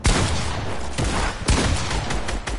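A gun auto-firing in the video game Fortnite: a loud, continuous stream of rapid shots with a few sharper cracks punctuating the barrage.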